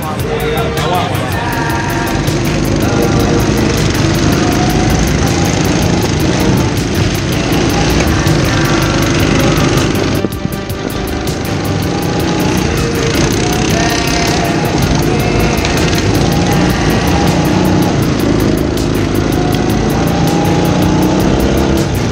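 A loud drift kart engine revs steadily, its continuous dense buzz running through the whole stretch with a brief dip midway, under occasional voices.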